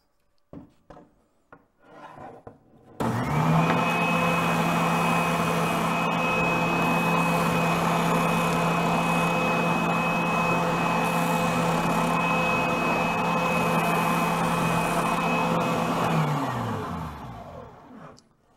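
A bandsaw cuts the rounded corners of a wooden bow locker cover for a Catalina 22 sailboat, a steady loud whine and rasp that holds for about twelve seconds after a few clunks, then winds down.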